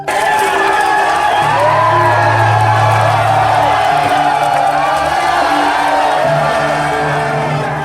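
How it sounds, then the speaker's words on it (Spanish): A large crowd roars and cheers continuously, with whoops and shouts rising out of a dense wall of voices, loud and sustained throughout. "Prorrumpió en gritos el júbilo"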